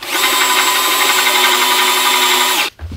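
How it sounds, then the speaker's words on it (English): A power drill whines loudly and steadily as it enlarges a hole in a Telecaster guitar's wooden body, a close, sustained tool drone that stops abruptly near the end. "So let's just drill this out real quick now."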